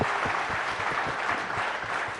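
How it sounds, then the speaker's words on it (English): An audience at the News18 Rising Bharat Summit applauds a guest with steady, dense clapping that fills the hall evenly and continues without a break. "Let's have a loud round of applause for Ustad Zakir Hussain."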